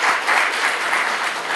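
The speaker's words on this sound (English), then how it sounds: "let's give a round of applause for that." A welcome-event audience in Kathmandu breaks into a brief, steady burst of applause, many hands clapping together, close and fairly loud with no talking over it.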